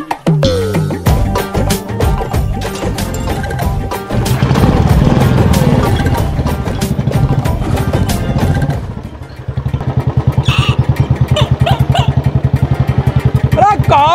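Motorcycle engine starting up and then idling with a loud, rapid, even putter, preceded by clattering and thumps as the bike is handled; people talk nearby.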